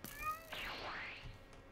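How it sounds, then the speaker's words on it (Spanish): Cat in Minecraft, heard within the Dragon Block C modpack: a single short, faint meow with a rising-then-falling tone, alone over a quiet background. "Ahí va el gatito ese"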